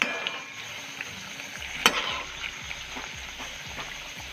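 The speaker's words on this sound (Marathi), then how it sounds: "कमी गॅसवरच तळून घ्यायचं आहे, नाहीतर त्याच्यामध्ये तेल ती राहू शकते." Khari puff pastries deep-fry in oil over a low gas flame, giving a soft, faint bubbling sizzle with one sharp utensil clink partway through.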